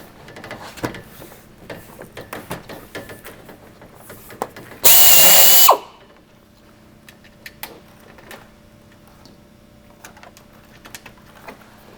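A rivet tool fastens panels of a PolyJohn portable toilet unit, with one loud, sustained burst of under a second amid light clicks and handling knocks in a quiet workspace.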